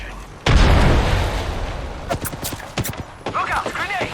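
A heavy grenade blast in the video game Apex Legends booms suddenly and loudly, rumbling away over a couple of seconds, followed by voices talking.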